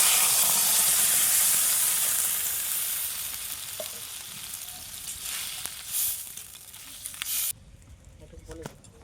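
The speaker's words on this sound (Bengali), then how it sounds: "এবারে ঝোলের জন্য জল দিয়ে দিচ্ছি" Water poured into a pan of spiced potatoes for a katla fish curry gravy: a loud sizzling hiss that bursts up and slowly fades, then cuts off sharply to a quiet simmer near the end.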